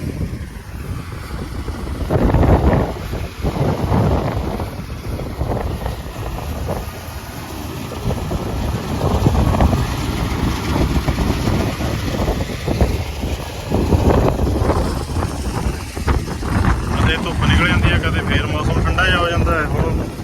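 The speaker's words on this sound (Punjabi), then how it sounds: "ਹਵਾ ਚੱਲਦਾ ਅੱਜ ਤੇਜ਼" Strong wind blows over a wheat field at harvest, rumbling steadily against the microphone for about twenty seconds while people talk over it.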